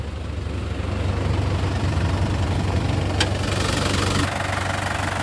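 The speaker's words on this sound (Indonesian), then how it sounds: "Sudah menggunakan turbo diesel. Turbonya ini, putaran mesinnya juga anteng banget." A 2011 Isuzu Panther LM Smart Turbo turbo diesel engine idles steadily and smoothly, a constant close low rumble with a faint diesel knock, running alone without talk.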